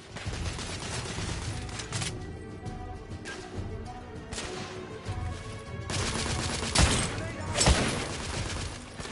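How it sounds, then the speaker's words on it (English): Suppressing gunfire in a first-person shooter video game, loud bursts of rapid automatic shots and crashes at close range, rising into heavier volleys toward the end. "I'm taking suppressing fire."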